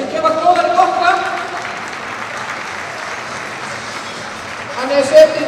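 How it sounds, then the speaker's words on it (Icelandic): Applause from a crowd welcoming a show horse at an Icelandic horse competition, a sustained patter of clapping beneath an announcer's voice in a large arena. "skulum gefa Glóðari gott klapp"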